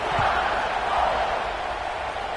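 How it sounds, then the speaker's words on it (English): A football stadium crowd buzzes and cheers after a score in an Alabama versus Auburn game, a broad, steady roar of many voices that holds throughout. "this crowd is buzzing after that last score"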